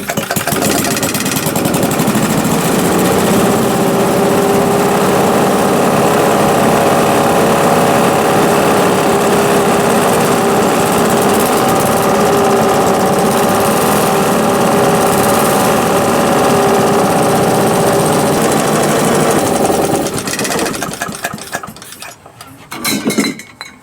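A small gasoline engine laid on its side runs steadily and loudly after being refuelled, a continuous buzzing drone for about twenty seconds that then falters and sputters out near the end.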